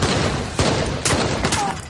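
Gunfire in a Trailer Park Boys scene, three loud, sharp bursts of shots about half a second apart over a noisy background, with no clear talking between them.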